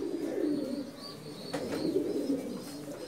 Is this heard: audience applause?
no